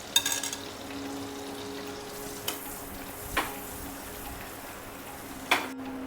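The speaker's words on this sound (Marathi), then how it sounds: "आणि यामध्ये आपण घेतलेलं जिरं घालून घ्यायचं" Cumin seeds dropped into hot butter for a sweet corn sabzi give a faint, steady sizzle, broken by a few sharp crackles and pops.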